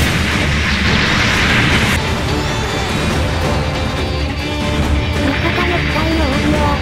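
Dense, continuous gunfire and booming blasts from a battle in the online game Mobile Suit Gundam Online, loud and unbroken throughout, with weapon fire layered over heavy rumbling.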